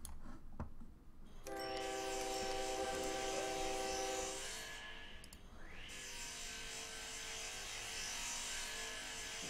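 A lumber mill works in the OpenTTD rail-building game, giving a looping mechanical buzz and drone with stacked tonal hums that shift midway, quiet and alone without talk.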